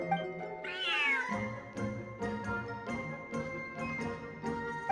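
An oversized cat in the game Genshin Impact gives a rising, drawn-out meow over a gentle musical backdrop with light chiming notes and soft rhythmic plucks.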